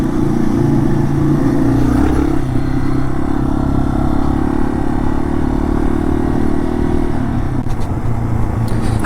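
Small dual-sport motorcycle, a Honda XR150L or Yamaha TW200, cruising down a dirt road at Bent Creek Gap, its engine a steady close buzzing drone with faint clatter and slight shifts in pitch.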